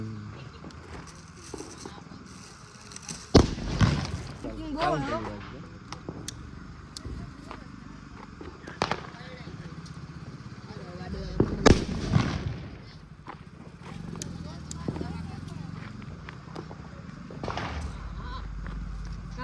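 Diwali firecrackers burst in a few sharp, loud bangs spaced several seconds apart, with voices and crowd noise running underneath.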